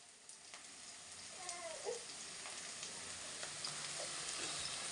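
Onions frying in a pan for an egg curry give a steady, fairly soft broadband sizzle that holds for the whole stretch, with a few faint clicks and small pops rising above it.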